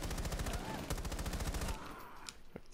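Gunfire in Rainbow Six Siege, loud rapid automatic bursts packed close together, then the shooting stops and a few sharper, more distant single shots follow.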